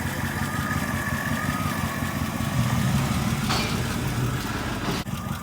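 An old Mercedes-Benz car that sat unused for about two years, its engine idling close by at a steady low rumble, with a brief clunk near the end.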